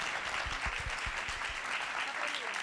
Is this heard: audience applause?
yes